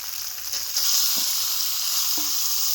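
Small boneless chicken pieces fry in spice masala in a village kitchen pan, giving a steady, close hiss and sizzle with a couple of faint scrapes, without talk.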